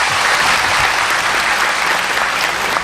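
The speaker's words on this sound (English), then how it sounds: "Let's express our heartfelt thanks and deep gratitude to Supreme Master Ching Hai with a big round of applause" Large audience giving a big round of applause at an evening event in Fountain Valley, California, a dense, even roar of many hands clapping, loud and sustained throughout.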